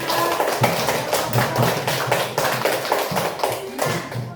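Students in a classroom clap for a student group, a small group of hands giving quick, uneven claps at close range.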